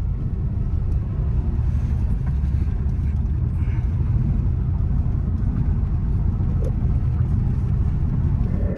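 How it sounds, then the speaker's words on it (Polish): A steady low rumble of a 2018 Dacia Sandero Stepway 0.9 petrol driving over concrete slabs, with continuous road and engine noise filling the cabin throughout. "wjedźmy sobie teraz na betonowe płyty, zobaczymy, jak samochód zbiera nam nierówności"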